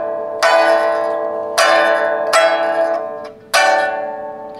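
A pipa strummed with the saoxian sweeping technique, each sweep a bright, ringing, chord-like burst. Four strums land at roughly even intervals, close and loud, with no talking.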